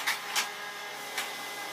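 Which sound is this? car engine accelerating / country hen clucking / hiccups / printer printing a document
printer printing a document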